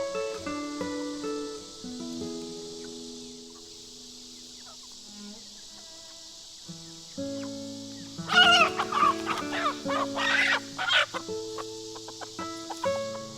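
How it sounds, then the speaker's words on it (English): Chickens clucking on a chicken ranch alongside a breeding rooster, soft scattered clucks at first, then a louder burst of rapid clucking and squawks in the second half, with insects buzzing faintly throughout. "Snowflake here, he's been my breeding rooster for my chicken ranch"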